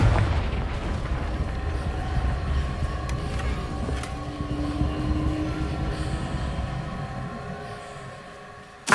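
A blasting spell explodes in the Hogwarts Legacy video game, a deep rumbling boom that rolls on and slowly fades across several seconds, loud and heavy in the low end.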